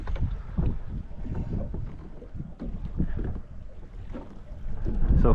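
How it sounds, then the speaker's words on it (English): Steady wind gusting across a North Dakota prairie lake during walleye fishing from a boat, a continuous low rumble of wind buffeting the microphone that swells louder toward the end, with no talking. "as that wind picks up, some of them just force them to go shallow"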